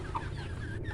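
Around a hundred chickens cluck in a coop, a steady, dense layer of overlapping clucks and low murmuring close by, with no talking.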